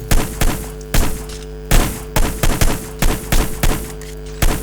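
Loud, close gunfire in a Hitman shooting video game: about a dozen heavy punchy shots in an irregular rapid sequence over a steady low game hum, with no talk.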